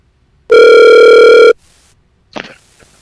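A telephone call being connected, with one loud, steady ringing tone lasting about a second, then a click and a short rustle, with no talk.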